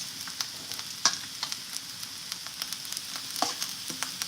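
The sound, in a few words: food frying on the stove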